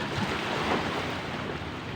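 Ocean waves wash at the seashore, a continuous broadband roar of surf mixed with wind buffeting the microphone, steady and fairly loud with no speech.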